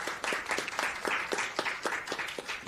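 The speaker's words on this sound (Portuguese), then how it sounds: "a quem eu peço uma salva de palmas também" An audience at an event in the National Congress gives a round of applause, a steady patter of many hands clapping throughout at moderate volume.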